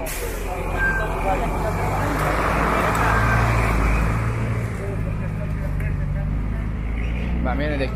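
Road traffic runs past hospital construction works, steady engine rumble from cars and buses, with a hiss like an air brake. People talk nearby over the continuous din.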